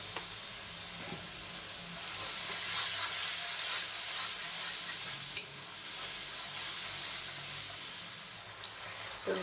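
Masala spice paste for a Sunday meat curry sizzles and fries steadily in a pan while being stirred, a continuous close hiss with small crackles and a brief louder spatter midway.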